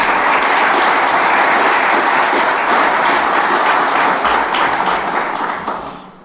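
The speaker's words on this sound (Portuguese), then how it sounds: "não podia deixar de vos pedir palmas pelo vosso trabalho" A large audience at a ministerial visit bursts into sustained applause, dense and even clapping that holds steady for several seconds before thinning and fading out at the end.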